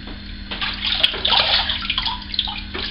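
Water runs steadily from a tap while alum is rinsed off after a shave, a close, continuous splashing rush with small sloshes, and no voices.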